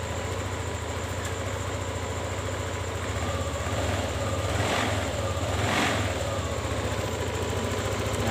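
A Yamaha Lexi scooter engine idles steadily after its dirty ISC valve was cleaned, giving a close, even low putter with a constant mechanical hum and no revving.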